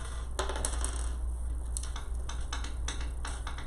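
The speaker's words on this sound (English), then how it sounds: "I'm hearing lots of dice noise." Dice rattle and clatter in a classroom during a life science lesson, with a steady run of sharp, scattered clicks and taps over a low background hum, and no voices.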